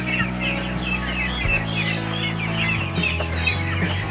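Meat ducks on a farm quack and chatter continuously in a busy flock of about 400, nearby and fairly loud, over a low steady hum.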